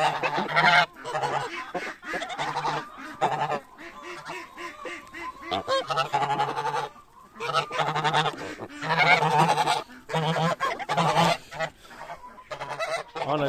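Geese on a poultry farm honk loudly and repeatedly at close range, a raucous overlapping chorus in bursts with short pauses between calls.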